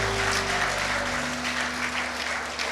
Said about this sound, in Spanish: Eso se merece un aplauso al Señor